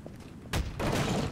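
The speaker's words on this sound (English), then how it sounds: "Oh, no. They're on their cannons." Cannon fire from a pirate ship in a Garry's Mod pirate ship battle: two loud, broad booms in close succession, the second longer and rolling, with no talk over them.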